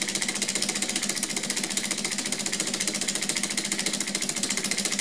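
A small 3D printed Stirling engine runs steadily, giving a fast, even mechanical ticking and whirring with a regular pulse, close by and moderately loud, with no voices.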